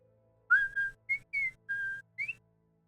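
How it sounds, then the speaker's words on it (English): A person whistles a short tune of six clear notes in quick succession, close and fairly loud against a quiet background, some notes sliding slightly in pitch. "I heard the whistle."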